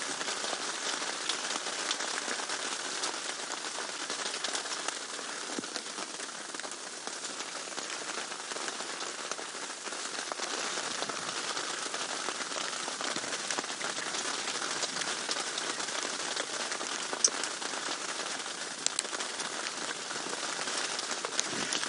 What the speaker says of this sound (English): it's raining, might as well sit it out and wait for it to stop